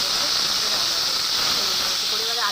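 Potatoes frying in a small amount of oil for Bengali shukto give a continuous, close, loud hissing sizzle that stays even for the whole short stretch.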